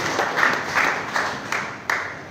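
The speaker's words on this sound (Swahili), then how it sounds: "Simpige Yesu makofi kama umeelewa hivi." A church congregation at a Protestant service applauds, giving a steady wash of many hands clapping with a few sharper claps standing out, and faint speech underneath.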